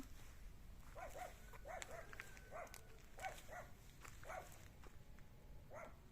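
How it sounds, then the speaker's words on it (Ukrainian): A dog barks outdoors in a Ukrainian yard, a series of short, fairly distant barks spaced irregularly over several seconds against quiet background. "І що ти там гавкаєш на мене?"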